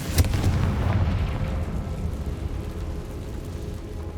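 A Confringo blasting spell from Hogwarts Legacy explodes in an underground cave, a loud close boom that rolls into a long fading rumble.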